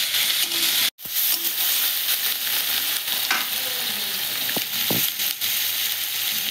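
Banana-flower curry with onions and ginger-garlic paste being stir-fried in a pan, giving a loud, continuous close sizzle with scraping stirs and one brief dropout, no talk.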